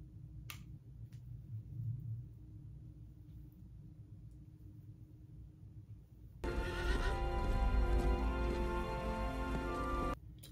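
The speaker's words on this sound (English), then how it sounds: "I'm glad the horses are okay, at least." Horses neigh and hooves clatter in a tornado disaster movie scene. A faint whinny comes first over low rumble, then a loud, dense burst of neighing, hoofbeats and noise takes over partway through, with no talk.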